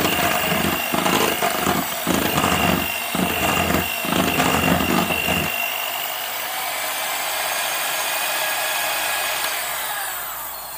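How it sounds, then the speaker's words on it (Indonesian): An electric hand mixer runs on its lowest speed through cake batter for a peanut layer cake, a loud, steady whir, pulsing with regular knocks at first, then smoothing into an even drone. "Kemudian kita aduk lagi pakai mixer kecepatan yang paling rendah sampai tercampur merata"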